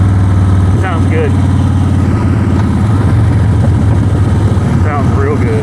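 A Harley Davidson motorcycle, bought wrecked from a salvage auction, runs loud and close with a deep steady engine rumble throughout, and someone speaks over it at times.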